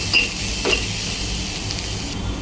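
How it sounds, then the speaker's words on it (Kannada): Chopped onion and green chillies sautéing in a pan, giving a continuous close sizzle with a few light stirring scrapes throughout a short stretch. "ಚೆನ್ನಾಗಿ ಈರುಳ್ಳಿ ಹಸಿಮೆಣಸಿಕಾಯನ್ನ ಬಾಡಿಸ್ಕೋಬೇಕು"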